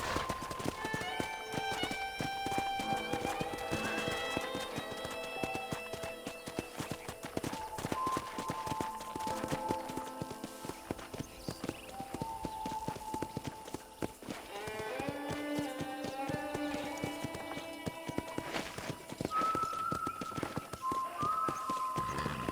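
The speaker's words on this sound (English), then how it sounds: "let's see if you can still ride a horse" Horse hooves galloping in the Red Dead Redemption video game, a steady rhythmic clip-clop running throughout under a layered musical score with tonal lines.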